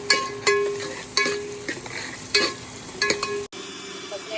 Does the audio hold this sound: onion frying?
yes